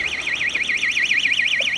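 Van alarm going off nearby in a tyre shop, a loud warbling electronic siren that sweeps up and down in steady rapid cycles without a break.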